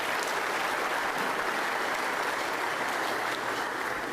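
An audience giving a round of applause at a university athletics event, dense continuous clapping from a large crowd that holds steady and fairly loud throughout, with no voices standing out above it.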